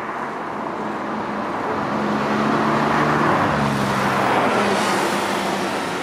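A Porsche 991.2 GT3 RS is driven hard, its engine droning steadily and building louder through the middle before easing slightly, heard from inside the car with no voices.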